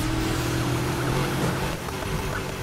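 A classic Dodge Charger's engine roars continuously during a Need for Speed police chase, loud and dense throughout with a steady droning tone and no speech.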